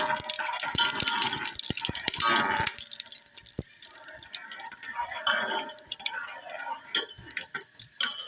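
Whole spices, including cinnamon pieces, tempering in hot oil in a home kitchen, crackling and spitting with scattered sharp pops and ticks over a continuous sizzle.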